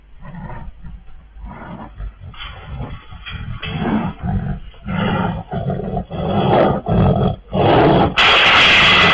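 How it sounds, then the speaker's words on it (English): A wild tiger roars in a series of loud, rough bursts near a farm, the roars rising in strength and ending in a harsh noisy blast. "This farmer was out doing work when a wild tiger came out of nowhere."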